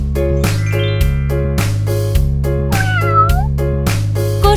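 Meows from a cat sound over a bright, rhythmic children's song about a cat, with repeated keyboard chords. Several gliding meow-like calls rise above the music near the middle.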